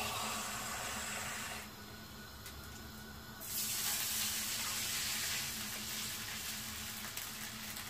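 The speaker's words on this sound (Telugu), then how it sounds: "ఈ గ్లాస్ తో గ్లాస్ నీళ్లు పోసుకుంటున్నాను" Water poured from a glass into a cooking pot on the stove while making noodles, a steady splash and trickle that swells noticeably after the first few seconds and continues to the end.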